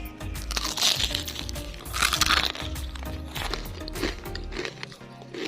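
Crunchy bites into crispy fried white tofu with chili sauce, a series of loud, close crackling crunches followed by chewing, with no talk over them.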